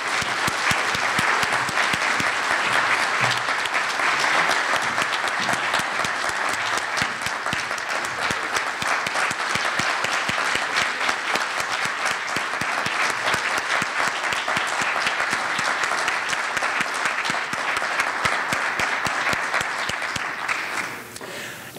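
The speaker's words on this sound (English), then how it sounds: "Please give her a much-deserved round of applause." A large audience at the Poetry Out Loud Illinois state final gives sustained, even applause for about twenty seconds, dense and steady, before tapering off at the end.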